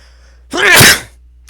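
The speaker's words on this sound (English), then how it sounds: "Oh, I'm gonna sneeze." A single sharp human sneeze, loud and close, bursting out after a quiet moment and fading quickly.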